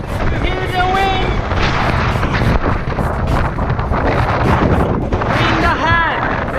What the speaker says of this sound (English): as you can hear, it's super windy